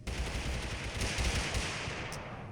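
Rapid automatic gunfire in the video game Totally Accurate Battlegrounds, dense bursts of shots from an opponent chasing the player, loud and continuous with no talk.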